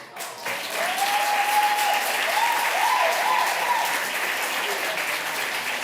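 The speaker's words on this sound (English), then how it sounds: "one more time, round of applause for all of our toasts this evening" A wedding reception crowd gives a full round of applause after the toasts, steady and loud for several seconds, with faint voices mixed in beneath the clapping.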